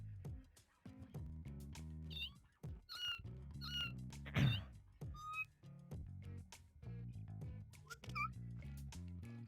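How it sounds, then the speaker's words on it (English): A cat meows repeatedly in the No More Heroes video game, short high calls scattered over a rhythmic game music loop with whistle-like chirps, moderately loud and close. "Play with Kitty Cat."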